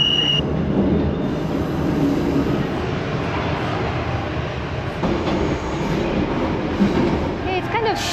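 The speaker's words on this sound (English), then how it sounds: "It's a subway train, but it has 2 levels." A two-level subway metro train in Paris rumbles steadily and loudly at close range, with sustained rail noise and brief squeals, and no talk over it.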